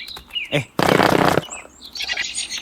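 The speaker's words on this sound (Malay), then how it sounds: "Okay, tu bunyi cancel." A short cancel sound effect from the video game Kaskade: a loud, dense burst lasting about half a second stands out among softer chirpy game tones.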